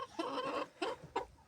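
Leghorn hens cluck softly in a few short separate bursts, close but faint, with a quiet background and no talking.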